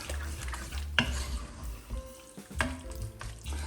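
Lamb coated in yogurt is stirred in a hot pot, giving a close sizzle with thick, wet scraping strokes and an occasional clink of a spoon against metal.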